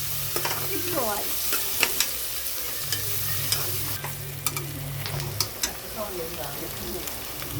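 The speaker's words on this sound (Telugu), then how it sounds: "తాలింపుకి గిన్నె పెట్టుకొని ఆయిల్ వేసుకొని, జీలకర్ర వేసుకొని, పుదీనా వేసుకొని మంచిగా ఎర్రగా ఇంకా వేగేదాకా తిప్పుకోవాలి" Cumin seeds and mint leaves frying in hot oil in a pot, stirred steadily: continuous close sizzling with repeated scraping clicks of the spoon against the metal, with a voice speaking over parts of it.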